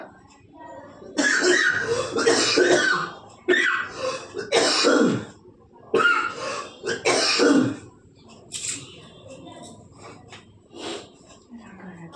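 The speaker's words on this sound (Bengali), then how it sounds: "কাশি উঠলে কিভাবে কাশতেছি" Someone close by with a hoarse throat coughs and clears their throat in several harsh bursts separated by pauses, with some raspy breathing.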